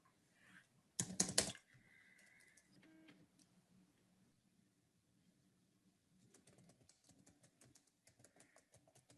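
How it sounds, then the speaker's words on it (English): Typing on a computer keyboard, quick runs of light, close key clicks in two spells with a louder burst near the start, otherwise fairly quiet with faint background noise. "I'll type and I'll tell you."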